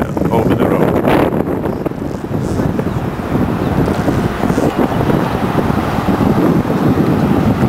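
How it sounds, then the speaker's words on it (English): Wind gusting on London's South Bank buffets the microphone with loud, continuous rumbling roar throughout, masking other sounds, while a voice can be heard faintly beneath. "the wind is picking up"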